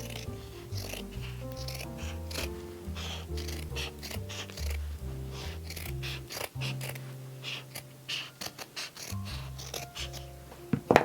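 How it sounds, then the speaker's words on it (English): Scissors trimming felt around a cone, a quick, regular run of crisp snips and soft metallic clicks that goes on for several seconds, close and quiet, with a short pause partway through and a few sharper handling clicks at the end. "We're just going to trim around where our felt is."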